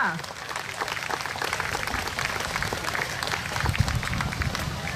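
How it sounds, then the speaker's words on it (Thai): Dense applause from a crowd at a ceremony where souvenirs are presented to sponsors during a beach conservation event. It is a continuous, fairly loud wash of many hands clapping, with some talk faintly mixed in. "ขอเสียงปรบมือด้วยค่ะ"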